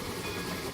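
Train running in the RO-Scale Sandbox game, a brief steady rumble of rolling rail cars with a faint tonal whine above, no talk.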